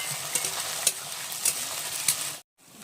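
Ground spice paste of cumin, turmeric and chili with ginger is stirred and fried in a pan. A close, steady sizzle is broken by regular scraping strokes about every half second, then cuts out abruptly near the end.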